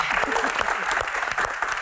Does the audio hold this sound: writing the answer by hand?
no